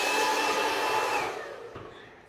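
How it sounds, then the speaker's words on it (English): A Freestyle System salon blow dryer blows with a loud, steady whoosh that fades away after about a second as it is switched off. "The blow dryer from Freestyle System, like from the Salon, same thing."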